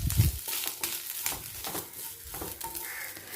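Grated coconut stirred through hot ghee while making steamed banana leaf cakes (ela ada), giving a soft, steady sizzle with scraping spoon strokes repeating close by, alone and fairly quiet.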